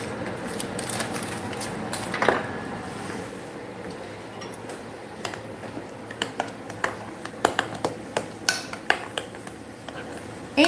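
A skillet and utensils clank while eggs are being cooked: sharp metallic taps and clinks, sparse at first, then a quicker run of knocks near the end, close against a quiet kitchen background.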